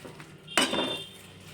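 A metal spoon clinks against a pan while stirring cashew curry, one sharp scrape-and-clink followed by a short rattling stir, close and fairly quiet with no voices.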